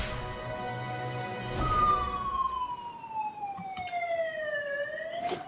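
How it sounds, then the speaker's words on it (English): A siren wails from outside, its pitch sweeping down slowly and then rising again, heard at moderate distance over a steady background hum. "Ignore that siren outside, please."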